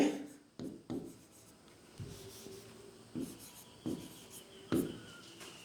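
Pen or pencil writing out a Hindi percentage math problem on paper, giving short scratchy strokes in irregular bursts with pauses between them, close and fairly quiet, with no talking.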